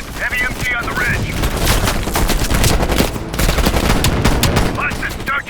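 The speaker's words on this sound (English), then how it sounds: "Heavy MG on the ridge." A heavy machine gun in Call of Duty: Black Ops Cold War fires in loud, dense, continuous bursts amid other gunfire, with voices briefly heard at the start and end.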